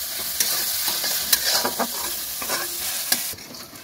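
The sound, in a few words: chopped onions frying in a pan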